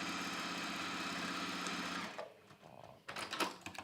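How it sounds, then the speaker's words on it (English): Sewing machine stitching a cork and velvet pouch closed, running in a steady fast whir for about two seconds, then stopping, with a few soft handling knocks and rustles after. "I'm just going to sew that closed and we're done"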